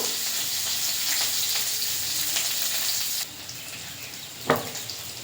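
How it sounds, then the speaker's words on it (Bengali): Continuous sizzling of onions frying with nigella seeds in oil in a pan, then the hiss drops to a quieter level, with a single clink of a utensil. "পেঁয়াজটা ভাজা ভাজা করে নেব।"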